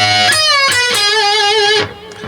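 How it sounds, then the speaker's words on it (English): Electric slide guitar filler lick with bends from a song lesson: several sustained, wavering slide notes with vibrato, plucked in quick succession and ringing out before stopping, played solo and close. "This is played with a slide bar"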